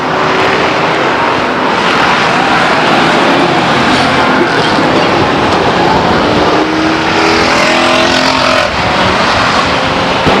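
Race cars roar around the Stockton 99 Speedway oval in a 2000 event, a loud continuous engine drone with pitch sweeping up and down as the leaders thread through lapped traffic on the backstretch.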